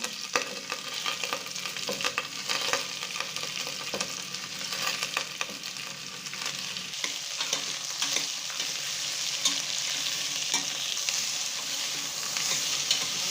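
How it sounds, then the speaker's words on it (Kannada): Chopped green beans fry in an oil tempering with mustard seeds for a beans palya, giving a steady, close crackling sizzle with occasional stirring scrapes and no voices. "ಹಾಕಿದ್ಮೇಲೆ ಹೆಚ್ಚಿಟ್ಕೊಂಡಿರೋ ಬೀನ್ಸ್ನೆಲ್ಲ ಹಾಕಬೇಕು."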